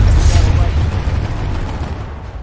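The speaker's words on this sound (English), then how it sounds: "So hear the cannon, I see the tracer," Heavy booming tank cannon fire in the video game Planetside 2, with a dense, rumbling low end, loud and close, trailing off into continued battle noise.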